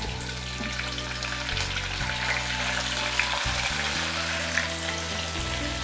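Scallion, ginger and garlic sizzle in a little oil in a wok, a loud, continuous frying crackle up close with a steady hum underneath and no talking.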